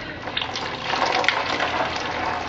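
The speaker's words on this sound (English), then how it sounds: "Get ready for the splash." Fluid gushes and splashes steadily out of an MG overdrive unit's transmission filter housing as it is opened, a continuous close wet pour that swells slightly midway.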